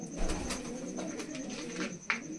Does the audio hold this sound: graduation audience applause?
no